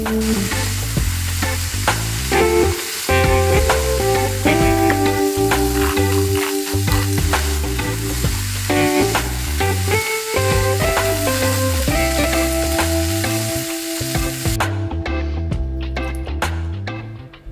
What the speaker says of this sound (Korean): 넓은 팬에 오이를 볶아주세요.